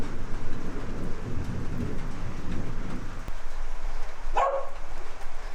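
A dog barks once during a building thunderstorm, a single sharp bark standing out against steady rain and a low rumbling of thunder.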